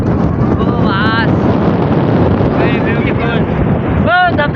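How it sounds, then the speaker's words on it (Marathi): Strong wind at the Matheran hill station viewpoint batters the microphone in a loud, continuous roar, with a few short bursts of people talking and exclaiming beneath it. "तरी हवा पण इतक्या जोरात. तर काही फुल वारा सुटलेला आहे."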